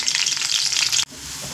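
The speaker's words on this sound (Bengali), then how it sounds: "2 মিনিট আমি আদা রসুন আর শুকনো লঙ্কা ভেজে নিয়েছি" Ginger, garlic and dried red chillies fry in hot oil with a loud, bright sizzle that cuts off abruptly after about a second, leaving a quieter hiss.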